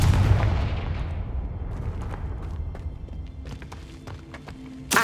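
A Confringo fire spell blasts in Hogwarts Legacy, a loud booming burst at the start that decays into a rumbling tail, followed by scattered crackles and small impacts.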